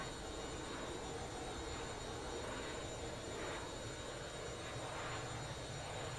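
A Boeing 727 jet airliner in the X-Plane flight simulator climbs out of Los Angeles with its gear retracted, giving a steady, loud, broadband engine roar that holds evenly throughout with no voices.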